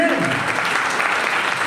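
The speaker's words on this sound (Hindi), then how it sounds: "अरे तालियां तो बजती रहनी चाहिए।" An audience at a motivational seminar in Dehradun claps in a loud, continuous wash of applause, with a voice briefly audible at the start.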